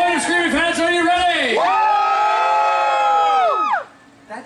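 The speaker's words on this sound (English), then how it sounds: "Supportive screaming fans, are you ready?" A crowd of young fans at a Star Wars Rebels Padawan challenge event shouts and cheers loudly, rising into one long sustained yell that cuts off sharply near the end.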